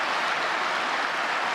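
Applause for teachers from the assembled audience at the annual address to the State Council of Tatarstan, a steady, dense wash of clapping that fills the short moment alone.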